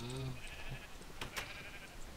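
Minecraft sheep bleating faintly in a quiet game scene, a short wavering baa at the start followed by soft ambient game noises and a couple of brief clicks.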